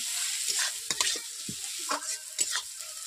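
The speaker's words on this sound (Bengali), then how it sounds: "আমি হালকাভাবে ব্রাউন করে ভেজে নেব" Sliced onions lightly browning in hot oil in a pan for a sour-spicy katla fish curry sizzle steadily, with repeated scraping stirs of a spatula breaking through the hiss.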